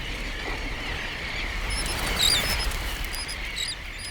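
A busy colony of nesting birds, parents and chicks on the Egmont Key beaches, with high chirps and calls scattered over a steady hiss of wind and surf, a few louder chirps near the middle.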